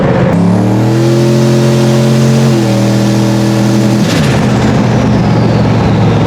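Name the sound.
turbocharged truck engine accelerating under boost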